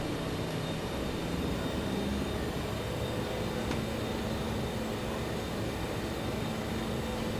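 JustFlight Avro RJ jet engines roaring steadily at takeoff power in a flight simulator, a constant broadband engine roar with a faint tonal whine, heard alone.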